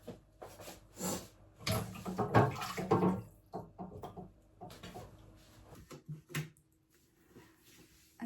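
Dishes are washed in a kitchen sink, with water splashing from the tap in uneven bursts and the clatter of items being handled, then quieter pauses.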